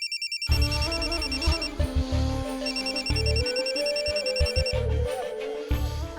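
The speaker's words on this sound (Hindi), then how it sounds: "रुक अभी फोन आ रहा है, देख के आते हैं किसका है।" Mobile phone ringtone going off in a home: a loud, repeating electronic melody with a pulsing beat that starts abruptly and keeps playing steadily throughout, with no talking over it.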